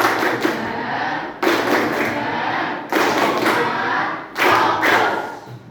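A group of people performing a rhythmic focus clap pattern in a classroom, heard as several dense bursts of clapping, loud and close, separated by brief gaps.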